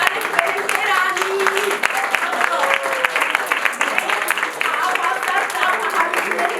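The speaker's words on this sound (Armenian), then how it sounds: "Բարձր ծափահարեք" Audience applause at a kindergarten performance, a steady patter of many hands clapping throughout, with a voice speaking and singing over it.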